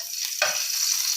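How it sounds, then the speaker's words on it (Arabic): A spoonful of ghee dropped into a hot baking tray on the stove, bursting into a sudden close crackle that settles into a steady sizzle. "معايا صينيه على النار اهي، تمام كده. هنزل فيها بمعلقه من السمنه اهي"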